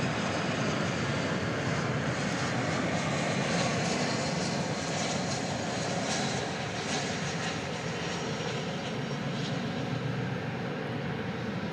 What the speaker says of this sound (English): this American Airlines Airbus A319 coming in